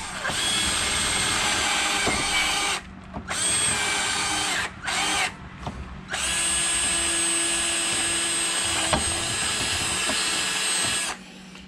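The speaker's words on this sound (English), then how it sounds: "ended up drilling out the old quarter pin" A power drill bores out an old pin on a 1992 Johnson 25 hp outboard motor, whining loudly and steadily in close bursts with a few short pauses and restarts, no talking.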